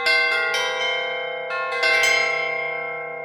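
Sampled chimes from a free sample library instrument, played alone: several bright, ringing metallic strikes in close succession, each sustaining and slowly decaying, with no voices.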